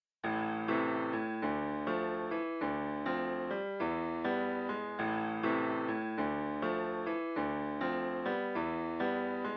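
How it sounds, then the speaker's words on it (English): A looping piano phrase processed with EQ and RC20, warm, slightly filtered chords repeating in steady bars, played alone at moderate loudness. "the first sound is this piano with this EQ on it and some RC20"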